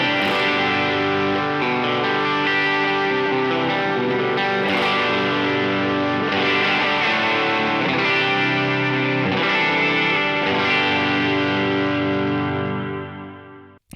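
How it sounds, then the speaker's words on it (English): PRS Silver Sky electric guitar with a bridge pickup, played through a pedalboard in sustained, driven chords with chorus-like shimmer, loud and close with no talking, ringing out at the end. "I'm also still using my PRS Silver Sky with a little 58 in the bridge"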